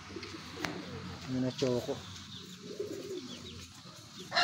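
Pigeons in a racing and breeding loft coo and murmur through the scene, with brief wing flutters, while someone talks nearby over the birds.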